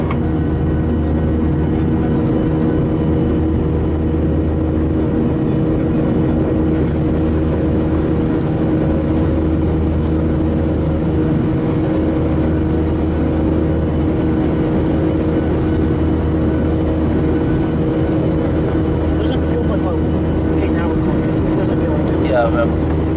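Jet engines of a KLM airliner spool up for takeoff, a loud steady roar with a deep low rumble that fills the whole cabin throughout, with faint cabin noise mixed in.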